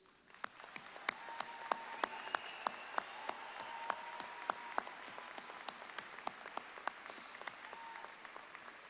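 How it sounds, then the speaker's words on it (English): Applause for graduating students at a university fall commencement ceremony, heard as distinct, evenly spaced claps at a distance, fairly faint and steady throughout. "please join me in a round of applause for these students"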